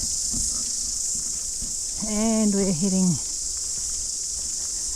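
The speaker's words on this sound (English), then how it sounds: "Nothing but cicadas, shows how hot it is." A constant high-pitched drone of cicadas fills the background throughout at a hot campground in Gentle Annie, West Coast, New Zealand, while someone briefly speaks over it.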